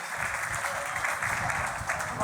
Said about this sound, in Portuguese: Uma salva de palmas para ele, gente